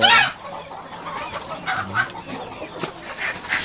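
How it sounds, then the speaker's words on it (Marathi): Village chickens cluck and squawk in short bursts, several birds stirring close by with brief startled calls as they scatter when a light is switched on. "लाईट लावले तर सर्व कोंबड्या इकडे तिकडे डावायला लागल्यात"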